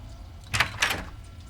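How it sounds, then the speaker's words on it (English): A door being pulled shut in a fantasy tabletop adventure, heard as two soft, close knocks of wood and a latch, each quick, in an otherwise quiet room with no talking. "And he kind of closes the door."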